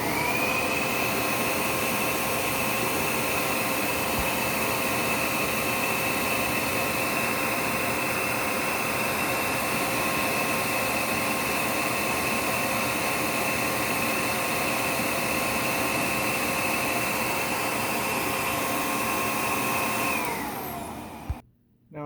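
A Dyson DC39 vacuum cleaner runs continuously for an airflow test, a loud, steady roaring whoosh with a high motor whine that holds unchanged until it abruptly cuts off near the end.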